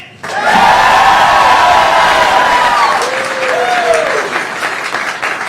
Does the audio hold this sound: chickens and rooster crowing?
no